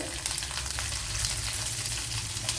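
Ginger and garlic sizzle steadily in hot oil in a pan for a pickle, a close, constant crackling hiss with no talking.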